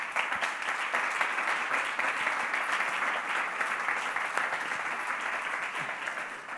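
An audience at an Instituto Cervantes and AIE music event applauds a folk musician, a sustained, even roar of many hands clapping, moderately distant and continuing throughout.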